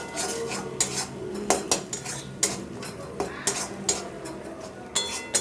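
Spoon scrapes and clinks against a pan while spice masala for egg curry is stirred and sautéed with splashes of hot water, giving irregular sharp metallic knocks over a low cooking hiss.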